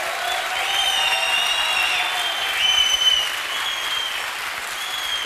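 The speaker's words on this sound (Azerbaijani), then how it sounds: "Buna görə Natiq Şirinova gürültülü alqışlar düşür." An audience at a nagara drum festival applauds for Natiq Shirinov, a steady, moderately loud wash of clapping heard from a distance in a large hall, with a faint high tone running over it.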